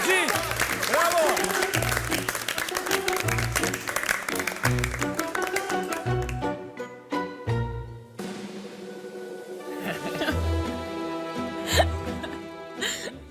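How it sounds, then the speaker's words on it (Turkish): A MasterChef Türkiye studio audience applauds a contestant, the clapping rising and fading in bursts while voices talk over and between it. "Güzel bir alkış alalım Ali için"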